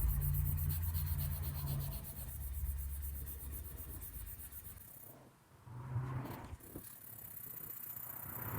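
A steel knife blade hand-sanded with 1000 and 2000 grit waterproof paper wrapped on a wooden block, with a pink polishing fluid; quiet steady rubbing strokes in a soft back-and-forth rhythm, a brief pause, then the scraping resumes.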